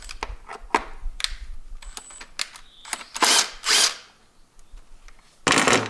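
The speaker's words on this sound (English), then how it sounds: "this tool what fits in here. This is suitable, and then I open this bolt." A hand tool loosens a bolt on a car's cylinder head cover with a series of sharp metallic clicks and ratcheting bursts, close and fairly quiet, separated by brief pauses.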